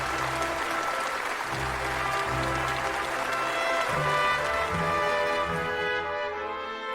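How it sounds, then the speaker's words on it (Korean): Enthusiastic applause from a large crowd in Pyongyang welcoming Kim Jong Un and Vladimir Putin, a dense steady wash of clapping mixed with music or a sustained tonal backdrop throughout. "두 나라 최고 수뇌분들을 열광적인 박수로 환영했습니다."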